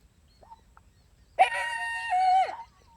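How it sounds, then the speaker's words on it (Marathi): A single jackal howl rising sharply and then wavering, loud and fairly close, lasting about a second against a quiet wild background with faint earlier calls. "कोल्हे आवाज करतायत."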